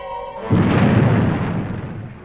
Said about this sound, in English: Fire main retros.